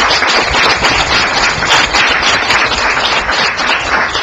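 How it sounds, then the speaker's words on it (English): A council meeting audience in Pompton Lakes claps for volunteers who helped with flooding, a steady dense wash of applause lasting the whole stretch with no talk over it. "So I give them a round of applause, and we should all give them this."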